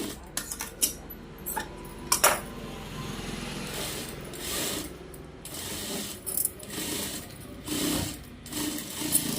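A sewing machine stitching fabric while a hem is folded runs in several bursts of rapid mechanical clatter, separated by short pauses and handling clicks, close and fairly loud.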